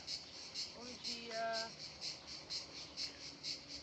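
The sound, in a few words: cicadas singing in the morning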